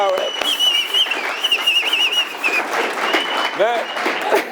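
An audience breaks into lively applause with sharp whistles cutting through. Voices carry over the clapping throughout.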